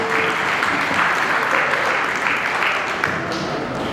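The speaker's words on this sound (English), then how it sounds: "So big round of applause to you guys for being here for our special moment." Party guests applauding at a call-to-the-bar celebration, a continuous wash of clapping that stays fairly loud and even throughout the short stretch.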